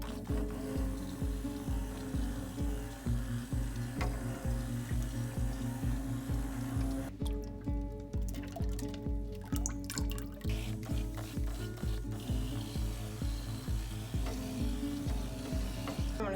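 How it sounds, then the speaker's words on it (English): Soap batter of oils, butters, additives and lye for cold process soap is mixed with steady, rapid rhythmic churning and sloshing, like a stick blender running, quiet and continuous with no talking. "Mix together our oils, butters, and additives, add in our lye,"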